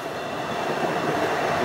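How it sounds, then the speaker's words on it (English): Train rolling past close by, a steady broadband rumble with faint rail clatter that holds at an even level throughout, with no voices. "Bloody train."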